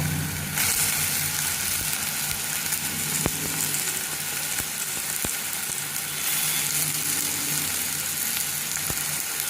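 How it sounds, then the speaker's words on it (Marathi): Onion and tomato fry together in hot oil in a pan as the base for a prawn gravy, giving a steady, close sizzle with a few sharp clicks. No one speaks. "कांदा टॉमॅटो सगळं एकदम टाकायचं"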